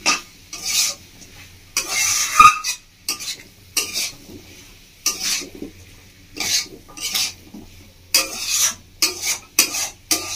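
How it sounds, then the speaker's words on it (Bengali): Vegetable masala being sautéed in a pan: a spoon scrapes and stirs in repeated rough bursts over a soft sizzle, with brief clanks against the metal and short pauses between strokes. "সবজি মশলাটা দিয়ে ভালো করে 2 মিনিট মতো কষিয়ে নেবো আরও"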